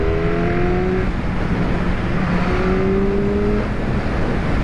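An MV Agusta 1090 Brutale RR motorcycle pulls hard in fourth gear, its engine note rising steadily as a continuous, loud, close roar with overlapping harmonic tones and wind rush.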